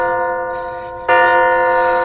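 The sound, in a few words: bell ringing in video game MADiSON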